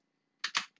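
A few quick keystrokes on a computer keyboard while entering a replace command in Marg accounting software, close and crisp, a short burst of clicks after silence.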